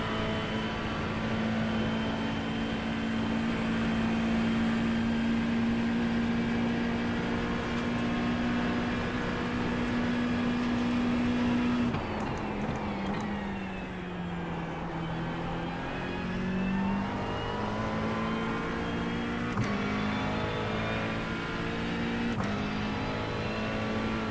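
GT3 race car lapping Bathurst in iRacing, engine droning steadily at high revs for a long stretch, then dropping pitch through a downshift into a slow hairpin and climbing again as it accelerates out, close and alone without talk.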